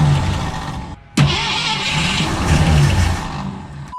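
A 1964 Ford Falcon engine cranks hard and sputters as it tries to catch, loud and close, with a short pause before the grinding starter rhythm resumes and carries on steadily.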